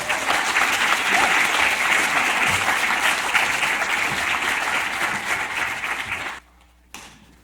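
An audience applauds to welcome a speaker at a research seminar, a sustained, dense roomful of clapping that fades and stops near the end.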